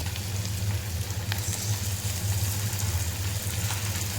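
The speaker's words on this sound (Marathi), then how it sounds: "कढीपत्ता आणि कांदा थोडंसं परतून घ्यायचं." Curry leaves and half an onion sauté in a pan, a soft, continuous frying sizzle with faint crackles over a low steady hum, heard close and without talk.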